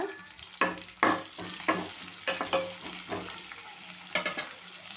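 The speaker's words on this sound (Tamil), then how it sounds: "நல்லா கிண்டி வச்சுக்குவோம். வெங்காயம் வேகட்டும்." Onions for an eggplant curry fry in oil in a pan as a spoon stirs them, making repeated scraping strokes and clinks over a soft, continuous sizzle, fairly close and moderately quiet.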